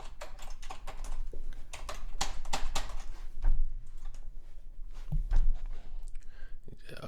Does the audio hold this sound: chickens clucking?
no